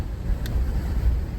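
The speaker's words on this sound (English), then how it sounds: "it's so windy" Strong gusting wind on the Isle of Skye buffets the microphone, a steady low roar and rumble heard alone with no voices.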